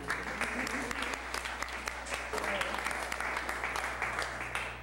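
Applause at a city council meeting in Pacifica, a steady, moderately loud patter of clapping with a low hum underneath, lasting several seconds.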